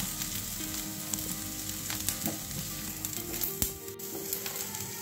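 Ingredients for bombil bhaji roasting in a pan, a steady close sizzle and crackle with occasional light clicks of a utensil against the pan.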